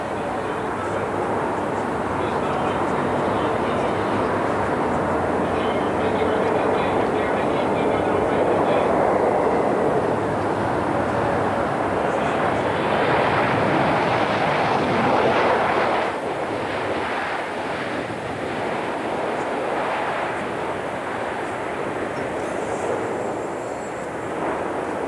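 A Concorde supersonic airliner coming in to land on one of its last commercial flights. Its engine roar builds steadily and swells loud, then eases off, heard from some distance and mostly on its own.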